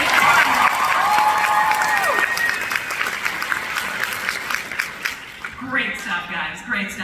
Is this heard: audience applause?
yes